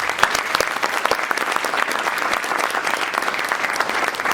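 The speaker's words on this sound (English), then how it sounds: "let's give them a round of applause for that" Loud, close applause from a crowd at a military graduation ceremony honoring soldiers and a sailor, continuous crisp clapping throughout with no voices over it.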